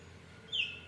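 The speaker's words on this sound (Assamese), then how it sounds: "চৰাইটো মাত শুনিছে ইমান ধুনীয়া লাগিছে কেনেকৈ মাতিছে" A bird calls once from a tree, a short high-pitched whistle over quiet outdoor background, fairly faint.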